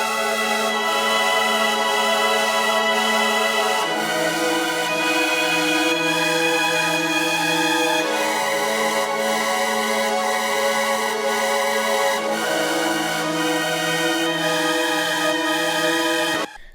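A distorted witch house synth melody, bitcrushed and washed in reverb, plays as a dense sustained chord texture with slow shifting bass notes changing every few seconds, loud and continuous throughout before cutting off abruptly at the end.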